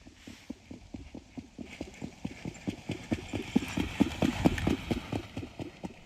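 A harness racehorse trots in steady, brisk clip-clop hoofbeats, close and rhythmic, growing slightly louder, with faint wind and background noise.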